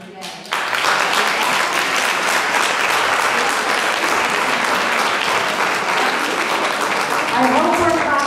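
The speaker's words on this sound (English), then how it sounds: "I hope we're clapping for the teachers" Loud, dense applause from an audience at a school district referendum town hall starts abruptly and holds steady, with voices rising near the end as the clapping continues.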